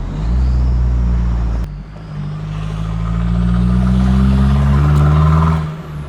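Turbocharged Mazda BT-50 ute driving along, its engine droning steadily with rising and falling harmonics and a brief dip around the two-second mark, loud and close with no talking.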